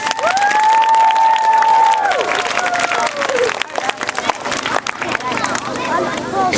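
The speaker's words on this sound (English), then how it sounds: "Give us a little round of applause for the basics." Audience applause and cheering fill an outdoor bicycle stunt show, loud clapping and crowd noise running throughout, with a whistle-like tone and a voice over the crowd near the start.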